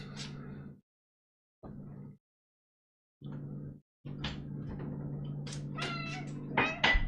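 A cat meows several times in separate bursts with pauses between, close and fairly loud, ending in a longer run of meowing and rustling.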